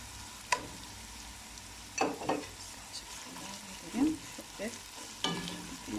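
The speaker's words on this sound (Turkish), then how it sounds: "gördüğünüz gibi kıymalarımız da biraz kavrulmaya başladı. Şimdi salçamızı ilave ediyoruz." Ground meat sizzling and frying in a pan with tomato paste, heard faintly and steadily beneath occasional scraping and stirring taps from a spoon.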